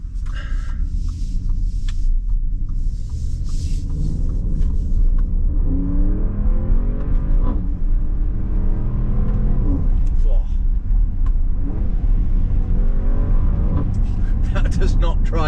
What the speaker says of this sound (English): Great noise from that V8